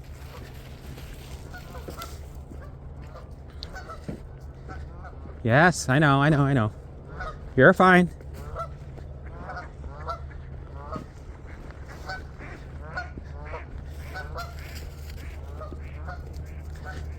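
Geese let out a short burst of loud, nasal honks, a cluster of calls followed by a second brief honk, set against quiet outdoor ambience with a person speaking softly nearby.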